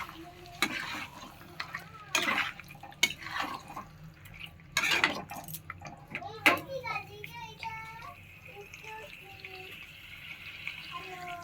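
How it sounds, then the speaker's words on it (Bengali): Sugar being stirred into Afghani chicken in a pan, with scraping and clattering strokes and a soft sizzle, several louder spoon knocks early on, fading to quieter stirring. "চিনিটা ভালো করে মিক্স করে নিচ্ছি।"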